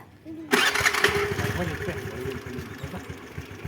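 A motorcycle engine suddenly sputters to life and settles into a rough, steady idle close by, loud and continuous with faint voices underneath.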